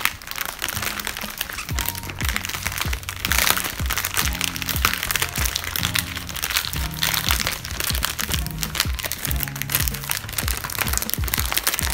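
Plastic packaging of Dr Pepper-flavored Peeps marshmallow candy crackles and crunches as it is opened, a loud, continuous crinkling close up, with music playing underneath.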